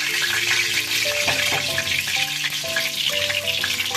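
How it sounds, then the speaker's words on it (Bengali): Corn pakoras fry in hot oil with a steady, close, continuous sizzle and crackle throughout, while faint tonal sounds drift underneath. "কর্নের পকোড়াগুলো ভেজে নিচ্ছি।"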